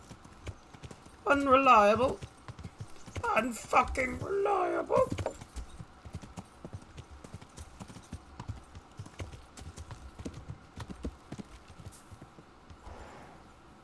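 Horse hooves clip-clop steadily through the Kingdom Come: Deliverance video game, an even trotting rhythm that runs under a man's swearing early on and continues alone to the end.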